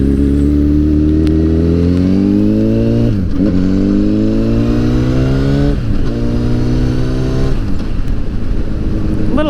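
A Honda CBR1000RR liter bike revs as it is ridden, engine note rising steadily through repeated gear changes with brief dips between pulls, loud and close with wind rush, no talk.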